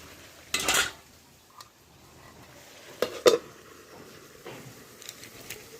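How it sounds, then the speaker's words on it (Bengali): A spoon scrapes and clanks against a pot as chicken curry is stirred on a stove, with a few sharp metallic knocks separated by quiet stretches. "চিকেন রান্না করছি তাও উনুনে চলো ঢাকা ছড়িয়েছি যেহেতু একটু নাড়িয়ে দিই"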